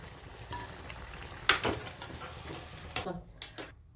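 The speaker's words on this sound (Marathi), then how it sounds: "राहिलेले असंच मी फ्राय करून घेते सर्व पीस" Rava and potato snack pieces frying in oil, with a soft continuous sizzle under sharper clinks and scrapes of a utensil against the pan and dishes.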